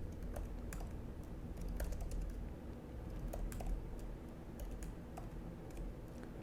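Typing on a computer keyboard while coding in Python, a steady patter of close, soft key clicks running throughout with no speech.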